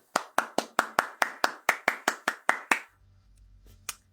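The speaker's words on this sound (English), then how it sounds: "Let me keep the claps in because I would like people to clap." About a dozen sharp, evenly spaced hand claps from a single person, close and clear, followed by near silence with one last faint clap.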